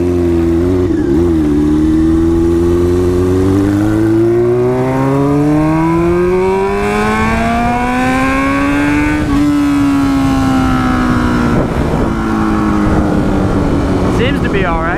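Motorcycle engine on a test run after a transmission rebuild, loud and close, revving and rising in pitch through the gears before easing off, climbing again and settling, continuous throughout.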